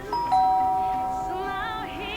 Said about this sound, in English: Now I can ring the doorbell.